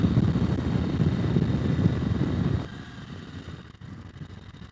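A 2020 KTM 790 Adventure R motorcycle ridden over a bumpy track, its engine and wind roar loud and steady, then dropping abruptly to a quieter rumble partway through.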